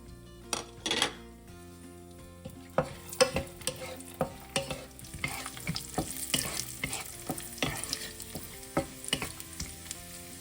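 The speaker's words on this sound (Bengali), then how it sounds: "এবার আমি প্রথমে এই কাজু আর কিশমিশটাকে বেজে নেব অল্প করে" Cashews and raisins frying in ghee, a gentle sizzle under busy stirring, with frequent metallic clinks and scrapes of a spoon against the pan building through the middle and end.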